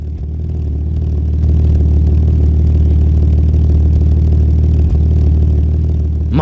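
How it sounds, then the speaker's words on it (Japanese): A rough-running RB25 engine idles close by with a steady, low, throbbing rumble and light mechanical clatter, running continuously without voices. "そんなわけでね、エンジンをかけてみたんですが、聞いてみて。"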